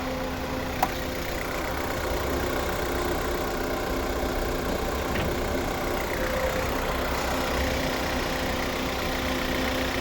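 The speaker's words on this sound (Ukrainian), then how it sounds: "Новий двигун." A 2022 Jeep Renegade 4x4 with a 1.3 turbo petrol engine idles steadily nearby, a constant low hum and rumble with a faint click near the start.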